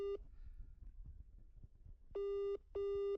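A phone call ringing out: loud, steady electronic ringing tones, a brief one at the start and then two long identical tones with a short gap between them, over low background noise.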